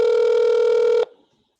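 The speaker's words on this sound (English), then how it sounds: "Just in time when the phone rings." A telephone rings once, a loud electronic tone held steady for about a second before cutting off sharply into silence.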